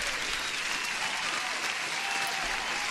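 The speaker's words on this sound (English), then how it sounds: "Huge applause for Jerry." Canned applause sound effect on a day-trading livestream, a dense, steady burst of clapping and crowd cheer lasting a few seconds at moderate level with no talk over it.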